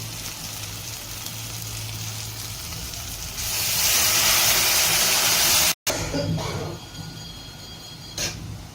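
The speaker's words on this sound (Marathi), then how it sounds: "आताला तर आपण आता डाळ त्याच्यात ओतून घेऊया" Dal poured into hot tempering oil hisses into a loud, steady sizzle that swells sharply midway, then settles after a brief cut into a lighter bubbling fry, close by with no voices.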